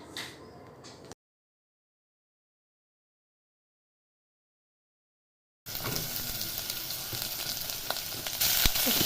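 Vegetables fried in oil with panch phoron for uche chorchori, a close, bright steady sizzle with a few faint stirring knocks, coming after a long stretch of silence.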